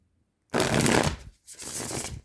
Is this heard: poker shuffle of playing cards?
yes